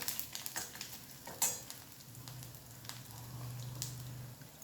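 Bay leaf tempering in hot oil, a faint, steady close sizzle under a few soft clinks and stirring scrapes, with a low hum in the background and no speech.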